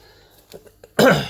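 A single rough cough bursts out near the microphone after a moment of quiet, trailing off briefly.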